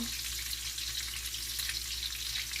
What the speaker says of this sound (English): You just want to fry these until they're golden brown.